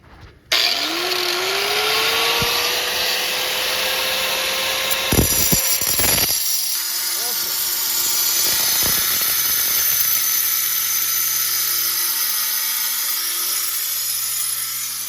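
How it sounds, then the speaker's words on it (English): An angle grinder spins up and cuts through a rusted front sway bar link on a 2006-2011 Toyota Camry, with a loud, continuous high whine and grinding that holds steady throughout. "I'm just gonna use the grinder."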